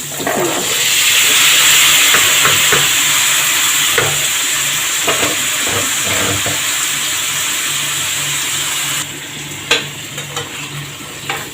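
Thick-cut potatoes go into a hot frying pan with a loud, rushing hiss that settles into a steady sizzle, with a few sharp clatters of the pan later on and no talking.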